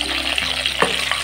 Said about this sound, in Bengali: মাছের একদিক ভাজা হয়ে গেছে, এবার অন্য সাইডটা উল্টে দিচ্ছি